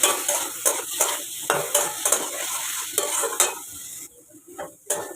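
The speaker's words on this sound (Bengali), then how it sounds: "এর মধ্যে কচুটা দিয়েও একটু কষাবো সুন্দর করে" Boiled taro being sautéed in a pan, a sizzling fry with rhythmic scraping strokes of a utensil against the pan, then a brief near-quiet stretch before one more scrape; no speech.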